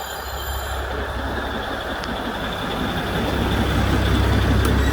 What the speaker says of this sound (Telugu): మళ్ళీ ట్రైన్ వచ్చేస్తుంది